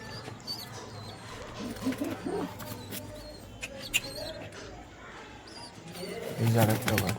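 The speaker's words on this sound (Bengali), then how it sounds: "এটা আদ্রা পায়রা" Domestic pigeons coo softly in short, low repeated calls near their young, partly under a person talking throughout, with a louder burst near the end.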